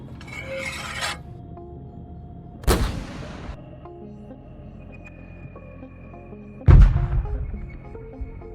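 Artillery shells strike a Russian tank in two loud, sharp blasts about four seconds apart, each with a rumbling tail, after an earlier brief rasping noise, with no voices.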